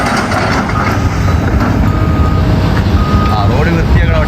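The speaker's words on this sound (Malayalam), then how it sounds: "റോഡ് ക്ലീൻ ചെയ്യണ വാഹനം" A road cleaning vehicle grinds and rumbles nearby among passing traffic, with faint repeated reversing beeps rising toward the end; people talk over the noise.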